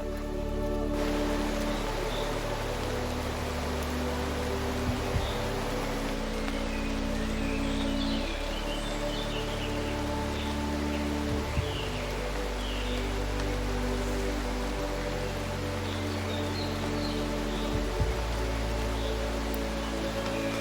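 Steady rain hisses continuously in the mountains of China, with a low engine-like drone underneath and a few faint knocks.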